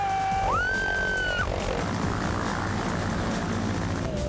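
A loud, steady engine of a plane flying in formation drones throughout, with a sharp rising whine early on before it settles into a constant roar.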